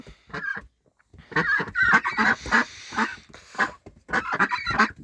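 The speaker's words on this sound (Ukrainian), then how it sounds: "Це мої качки." Loud, close quacking from several Pekin and brown ducks, a burst of calls, a short pause, then repeated overlapping quacks with no talking.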